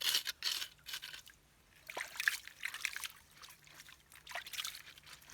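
Water trickles and sloshes steadily close by as soft bedrock is washed down while sluicing for gold, with a continuous gentle liquid noise and no talking.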